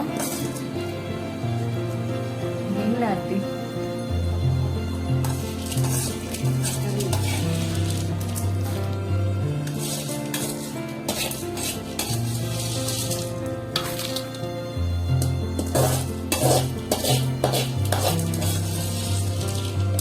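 Lentils and peanuts are stirred in a pan while roasting for idli powder, with a metal spoon scraping and clinking against the pan over a faint sizzle, close and continuous.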